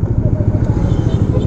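Motorcycles on a highway pass close by, heading to a skills-competition event, their engines a steady loud drone with rough clattering pulses through the clip.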